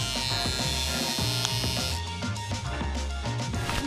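An electric shaver buzzing continuously through the whole stretch, close and fairly loud, with a rattling, uneven motor tone and no talking.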